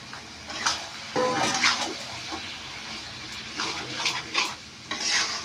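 Young goat mutton being stirred and sautéed in a pan for curry, a soft sizzle broken by scraping, shuffling stirs in uneven bursts, close and fairly quiet.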